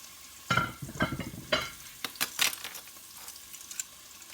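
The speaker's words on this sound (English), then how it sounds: "I can hear my pan sizzling." Apple glazed roast browning in a hot pan gives a soft, close sizzle broken by irregular pops and crackles, with no one speaking.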